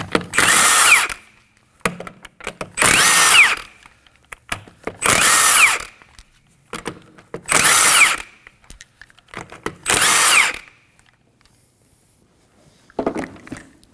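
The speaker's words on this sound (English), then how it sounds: "Using a 21mm socket, go ahead and remove the lug nuts." Impact or power tool spinning off the lug nuts on a 2011-2016 Kia Optima rear wheel with a 21mm socket, five loud separate bursts of about a second each with short pauses between them, then a sixth starts near the end.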